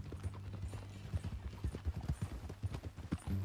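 Horse hooves clip-clop in Red Dead Redemption 2, a steady run of close, rhythmic hoof strikes over a low background hum with no talking.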